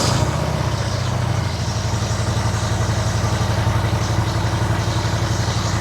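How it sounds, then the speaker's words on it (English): A Harley-Davidson motorcycle engine, a 2014-or-later model, settles into a steady, close, low rumbling idle with an even, throbbing pulse and no voices over it. "So let's fire the bike up."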